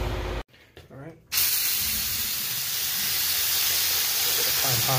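A loud, steady hiss of water rushing out under pressure as a building water pipe riser drains, briefly cut off near the start, then continuing strongly with a faint voice at the end.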